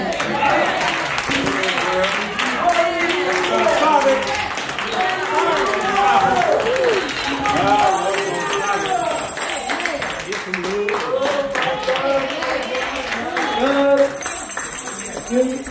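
A church congregation applauding, with sustained dense clapping running throughout and voices speaking or singing loudly over it.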